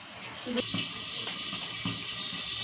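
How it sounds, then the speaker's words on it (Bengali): Bacha fish fries in hot oil under a lid, giving a steady close sizzling hiss that swells after a moment, with a few soft pops and spatters. "আওয়াজ হচ্ছে, দেখছেন? এই তেলের ছিটা বাবারে।"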